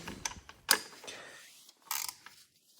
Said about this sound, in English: let's get the ratchet